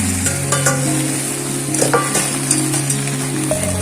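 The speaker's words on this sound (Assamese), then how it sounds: "কেৰাহীখন গৰম হ'ল, এতিয়া মই কচুখিনি দি দিম।" Taro sizzles steadily in a hot wok, with continuous frying hiss and occasional scraping clinks of a stirring utensil; a low hum runs beneath.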